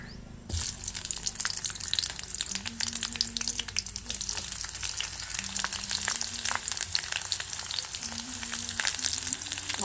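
Onions frying in hot oil alongside dried red chillies, a steady close sizzle with crackling that runs without a break for about ten seconds, with no one speaking.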